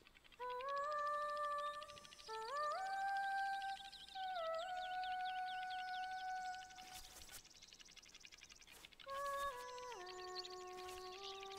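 A melody from The Legend of Zelda: Link's Awakening on Switch plays as a clear, sustained melody of stepping tones in two phrases, with a short break near the middle before the tune resumes.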